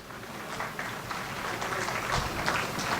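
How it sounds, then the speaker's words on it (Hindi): A crowd claps steadily to welcome a speaker at a Millat Foundation event in Jodhpur. The dense, even applause lasts throughout at moderate volume, with no voices over it. "तो ज़ोरदार तालियों के साथ इनका स्वागत करें"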